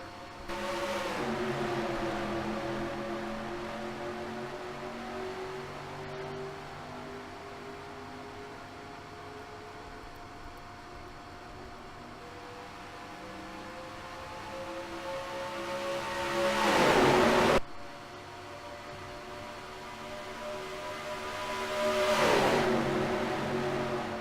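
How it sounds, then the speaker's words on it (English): Race cars lapping Charlotte Motor Speedway in a racing video game, engine whines droning steadily with pitch sliding as cars pass, moderately loud with a couple of sharp whooshing passes near the end and no voices. "We're green flag racing here in the Cessna 200."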